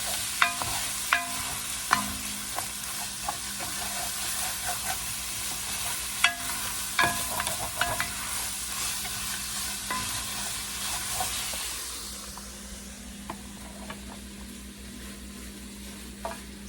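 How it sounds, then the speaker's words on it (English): Spoon stirs and scrapes browned fond from the bottom of a pan of loaded two-bean soup, a steady sizzling bed under repeated scraping strokes that quiets near the end. "So we're just going to keep stirring this around, trying to get all of that fawn off the bottom of our pan."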